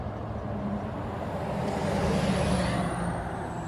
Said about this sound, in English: That loud truck coming by.